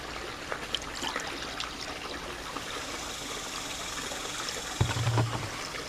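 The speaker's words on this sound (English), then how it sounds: "Pour it in front of a jet." Acid pours into swimming pool water in front of a return jet, a steady close trickle and splash with a brief louder gush near the end, no talk.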